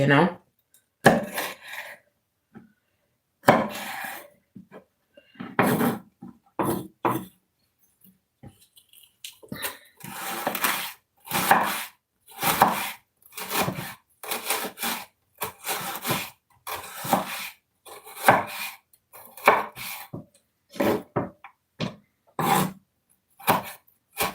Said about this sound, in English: So I'm just going to be chopping up some jalapeno peppers.